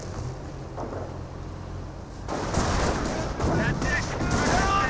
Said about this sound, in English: Barrage in the last known region.